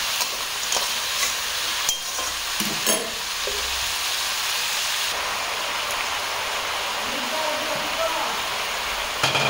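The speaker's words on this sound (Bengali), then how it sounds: "এটা আবার ভালো করে পেঁয়াজের সাথে ভেজে নেব" Meat frying with onions sizzles steadily in a pan while being stirred, with occasional close scraping and clattering from the stirring over a constant bright crackle.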